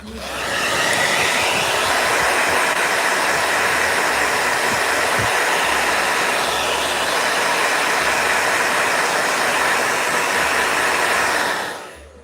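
A blow dryer roars steadily and loudly for about twelve seconds at close range, then cuts off, with no talking over it.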